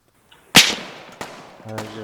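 A grenade going off in the military shooter game Arma: a sharp, loud blast with a decaying rumble tail, followed by a couple of shorter distant cracks, and then a brief voice at the end.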